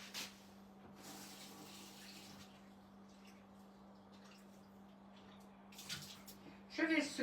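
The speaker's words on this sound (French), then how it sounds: "Je vais juste le rincer un tout petit coup." Water from a kitchen tap runs over a cake mould being rinsed, a soft steady splashing with a constant hum in the background and a louder clatter of handling at the end.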